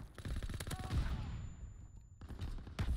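Rapid SMG bursts in Call of Duty WWII, short clusters of fairly quiet gunfire with a gap of near silence between volleys.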